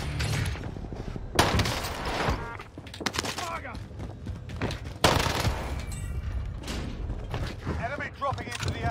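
Gunfire with incendiary rounds in a Call of Duty-style shooter, bursts of rapid shots and sharp impacts over a busy mechanical clatter, with voices talking throughout.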